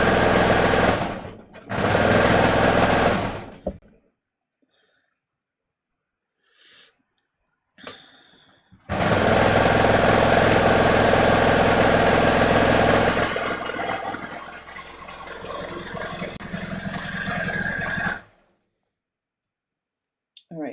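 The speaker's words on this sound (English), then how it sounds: "I'm going to sew this one more time" A sewing machine runs in bursts while stitching a seam on a fitted top, with a short run near the start and a long steady run later, loud and close with brief pauses between.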